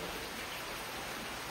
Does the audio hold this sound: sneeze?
no